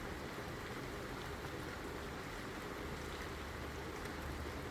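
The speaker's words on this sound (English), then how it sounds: "I love the sound of rain" Steady, soft rainfall hisses evenly throughout, a dense wash of drops with no breaks, faint and fairly distant.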